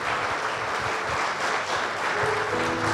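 Loud, sustained applause from a church congregation, steady dense clapping filling the room for the whole stretch with a few faint voices mixed in.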